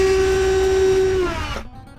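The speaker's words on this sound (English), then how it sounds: "And drill, and then we're gonna look on the other side" A power drill whines at a steady high pitch while drilling through a wall, then winds down and cuts out as the bit breaks through, leaving a faint rustle.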